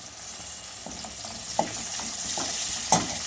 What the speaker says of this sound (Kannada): ಸೊ ಇವಾಗ ಫ್ರೈ ಮಾಡ್ಕೊಬೇಕು ಚೆನ್ನಾಗಿ.